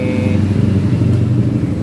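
A Honda Megapro motorcycle engine idles loudly and steadily close by, a continuous low rumble with no pauses.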